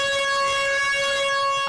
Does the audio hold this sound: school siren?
yes